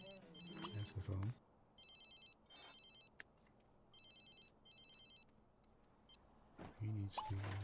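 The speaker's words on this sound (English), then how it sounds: "That's the phone." Telephone ringing in The Sims 3: repeated electronic ring bursts come in an even on-off pattern under a quiet room hum. Speech-like voices are heard at the start and near the end.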